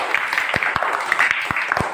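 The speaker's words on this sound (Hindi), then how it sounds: "ताली बजाइए" Children clapping in a classroom during a pass-the-parcel game, a steady patter of hand claps with a few sharper distinct claps cutting through, close and fairly loud with no talk.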